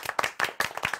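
A small group of people clap in a quick, uneven burst of applause, sharp close hand claps across about a second, with no other sound.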